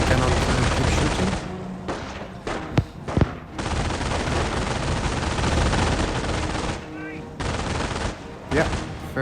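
Company of Heroes mobile battle: dense gunfire with rapid machine gun bursts and rifle shots, loud and nearly continuous, with brief gaps and a few sharp cracks standing out.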